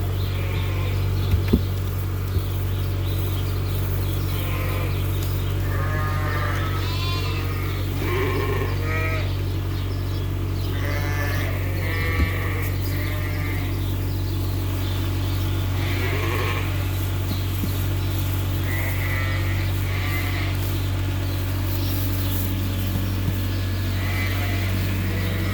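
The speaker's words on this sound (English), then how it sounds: "I'm just going to pan around the pen so people can see the lambs" Lambs and sheep bleat repeatedly in a farm pen, several overlapping calls near and farther off over a steady low hum, with no talking.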